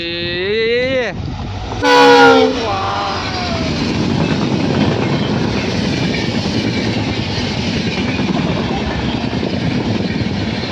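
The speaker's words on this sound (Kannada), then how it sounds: "ಟ್ರೈನ್ ಬಂತು ಫ್ರೆಂಡ್ಸ್" A train rumbles past close by after a short blaring horn blast near the start, its steady roar filling the rest of the clip.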